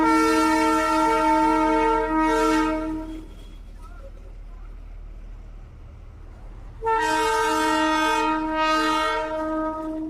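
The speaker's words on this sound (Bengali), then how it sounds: "রাস্তাতে টয় ট্রেন আসছে, দেখো, টয় ট্রেন।" The Darjeeling toy train sounds a long, loud horn on a road in the hills, falls quiet for a few seconds, then sounds the horn again in several pulsing blasts.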